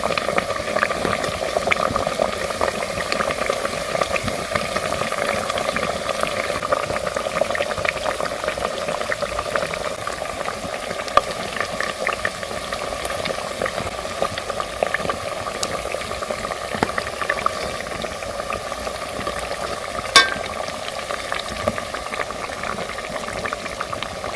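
Sugar and salt pinwheels bubble and sizzle steadily as they deep fry in hot oil, a continuous close frying hiss with occasional small pops and clinks.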